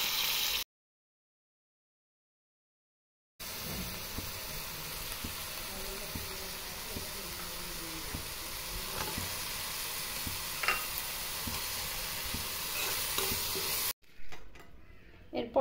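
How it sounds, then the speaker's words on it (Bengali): Small fish seasoned with turmeric and salt frying in a pan, a steady moderate sizzle with scattered pops after a brief silence, a faint stir or clatter now and then, ending in a dropout and quieter rustle. "এর জন্য ছোটো মাছটা ভাজি করে নেব।"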